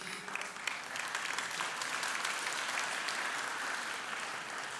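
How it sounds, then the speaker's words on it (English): Audience at a university excellence awards ceremony gives a round of applause, dense sustained clapping from a full room holding steady before easing slightly at the end. "I think another round of applause."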